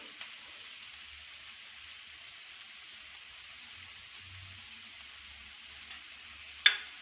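Chopped vegetables for veg momos sautéing in a pan, a steady faint hiss and sizzle with a soft clink near the end and no voices.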